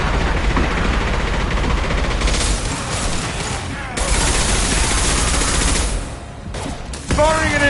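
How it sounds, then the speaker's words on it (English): Rapid gunfire and heavy weapon blasts from the game Mass Effect 2 rattle continuously in a dense, loud barrage with booming impacts, briefly dipping before resuming, with combat voices and mechanical effects mixed in. "Firing an impact shot!"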